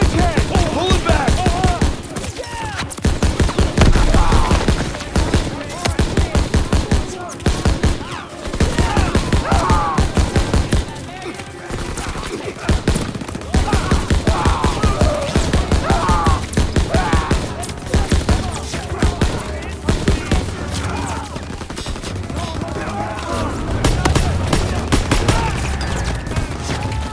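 Dense, continuous gunfire in a Call of Duty WWII battle against SS troops at a western bridgehead: rapid machine-gun bursts and rifle shots crackling loudly throughout, with shouted commands mixed into the din.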